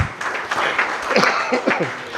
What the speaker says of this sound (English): I want you to clap for it because not easy to get ATAL FDPs.